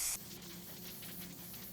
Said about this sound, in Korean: 부직포 바르실 때는 여기에 스프레이 본드를 살짝만 해주셔도 충분해요